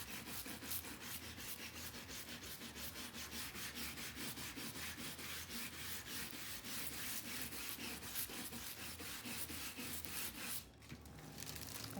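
Foil is scrubbed onto a wreath board in fast, steady back-and-forth rubbing strokes, close and continuous for about ten seconds, with a brief pause near the end.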